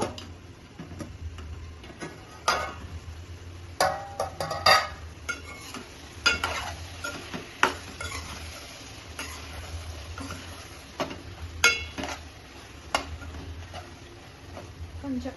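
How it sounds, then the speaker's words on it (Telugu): Eggplant pieces cooking in a pan, with a soft sizzle under sharp, irregular clicks and scrapes of a spoon stirring against the pan, close by, with a voice talking over it. "కొంచెం ఉప్పు బాగా కలిపేసుకొని ముక్కలు మగ్గినయో లేదో"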